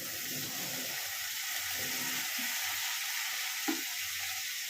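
Ginger-garlic paste and spices sizzle steadily in a pan with a splash of water while masoor dal khichuri is cooked, a soft continuous hiss with faint stirring clinks and no talking.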